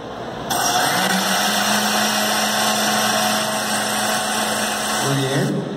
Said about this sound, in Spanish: Prende la licuadora.